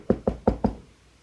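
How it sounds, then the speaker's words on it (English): Four firm knocks on a door in a quick, evenly spaced series, close and clear, then silence. "Oh, someone's at the door."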